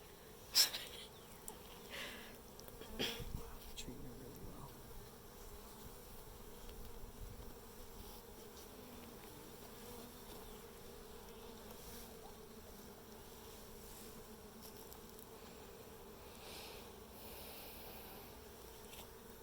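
A steady, faint buzzing of many honey bees around a hive throughout, with a few soft bumps and rustles near the start.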